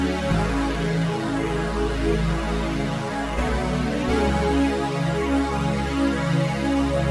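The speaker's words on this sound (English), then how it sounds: "I added this phaser, a little bit of reverb and some redux to make it sound even bigger" Juno synth chords run through phaser, reverb and redux effects, giving a washy, slightly gritty and lo-fi sustained progression over deep bass, with slow chord changes and no voices.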